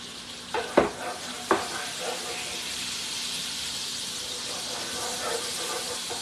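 Ribeye drippings sizzling in a hot pan give a soft, steady hiss. A couple of sharp clinks or pops come near the start, and the sizzle then carries on quietly.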